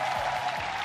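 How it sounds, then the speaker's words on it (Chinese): Crowd applause for the home team's MVP after a Rakuten vs Fubon baseball game, a steady wash of clapping that fills the brief moment at moderate level without clear voices. "掌声送给她"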